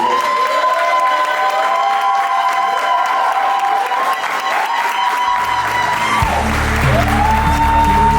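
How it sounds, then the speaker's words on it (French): Audience at a health leadership event applauds to welcome a speaker, steady crowd clapping with some cheering, layered under loud sustained music with tonal swells that carries throughout. "qu'on puisse accueillir chaleureusement Marjorie Hérault à la moisson des applaudissements."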